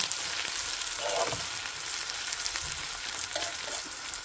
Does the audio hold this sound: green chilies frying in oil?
yes